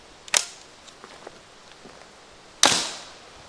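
A homemade arrow launcher built from a windshield-wiper spring fires twice: two sharp snapping releases about two seconds apart, close and loud, with faint clicks of handling between them.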